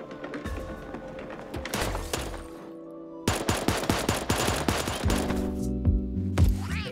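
A minigun in Super Animal Royale spins up and fires in long, fast rattling bursts, loud and close, with a brief lull before a second sustained stream of rapid shots.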